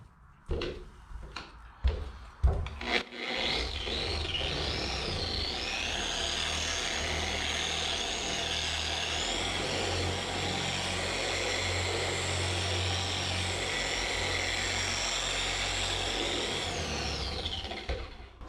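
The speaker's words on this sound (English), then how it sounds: "I'm gonna be on speed 4 on my polisher, and we're just gonna do a few passes, work this in, very light pressure" A car polisher runs at speed 4 over painted bodywork with light pressure, a steady loud motor whine holding for about fifteen seconds after a few brief knocks and handling sounds.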